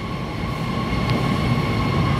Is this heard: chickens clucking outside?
no